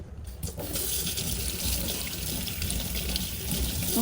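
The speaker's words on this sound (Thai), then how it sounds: "ล้างมือก่อน" Tap water runs in a steady, loud, continuous gush as hands are washed at a home kitchen sink during cooking.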